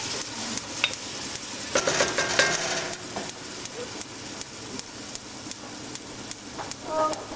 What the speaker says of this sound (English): It sizzles away